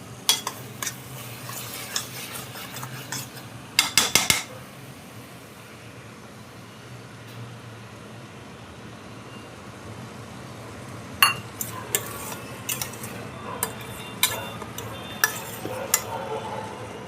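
A spoon stirs milk into roasted khoa for carrot halwa, a soft steady scraping under low background noise, broken by a few sharp metal clinks against the pot, grouped early and again toward the end.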